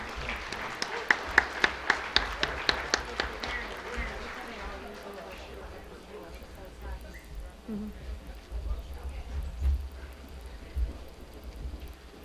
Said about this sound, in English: Please give them a round of applause and thank them for their service